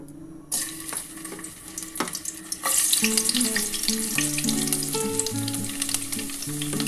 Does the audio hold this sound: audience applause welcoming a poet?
no